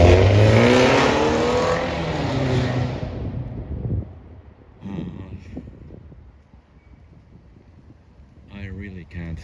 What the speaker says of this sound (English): I really can't understand people who like their cars so noisy.